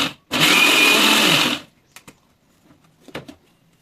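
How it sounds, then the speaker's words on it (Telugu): A mixer grinder runs one loud burst of about a second on pulse mode while grinding masala paste for stuffed brinjal curry, whirring harshly up close. It stops abruptly, followed by a few faint clicks and knocks. "కొద్దిగా బరగ్గా పల్స్ మోడ్లో అయితే మిక్సీ పట్టుకోవాలి."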